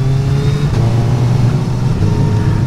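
A Suzuki Hayabusa motorcycle from the 2021 to 2022 model year pulls hard on a road ride, its engine droning loud and close with a quick shifter gear change that briefly dips the pitch before it climbs again.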